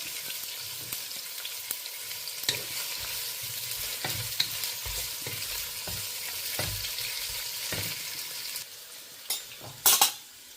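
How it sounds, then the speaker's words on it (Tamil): Onions and green chillies sizzle steadily in a pan for prawn biryani, with a spoon scraping and stirring at intervals and a few sharp metallic clinks near the end. "இப்போ வெங்காயம் வதங்கி கொண்டிருக்குது"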